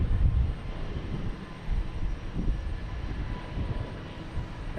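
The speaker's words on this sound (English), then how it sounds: "we have American Airlines taking off on 4 right, heading to Phoenix, an A321neo" An American Airlines Airbus A321neo takes off from runway 4 right at Boston Logan Airport, its engines a low, distant, steady rumble.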